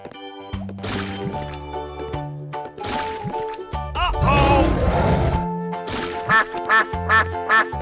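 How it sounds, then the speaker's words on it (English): Cartoon duck quacks ring out over bouncy children's music, first scattered squawks and splashy noises, then a quick run of four nasal quacks near the end, loud and close. "duck,"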